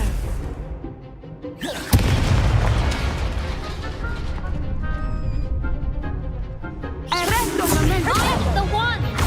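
A Confringo fire spell bursts in the Hogwarts Legacy video game with a sudden loud boom, followed by crackling magical blasts and rumbling game effects that continue through the scene, ending in another burst of bright effects.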